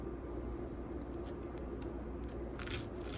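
A knife cuts through a turkey and cheese sandwich on crispy bread. Faint, quiet crunching builds to a brief crisp crackle near the end, over low room noise and no speech.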